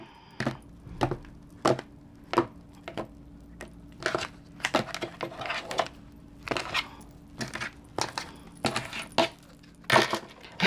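Tarot cards are cut and shuffled, giving a rapid, irregular series of crisp slaps and taps close to the microphone, with short bursts of riffling and near silence between them.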